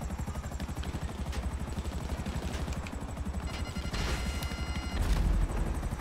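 Rapid, sustained gunfire in GTA 5 Online, a dense stream of shots layered over a steady whirring engine drone, continuous and fairly loud with a heavier surge near the end.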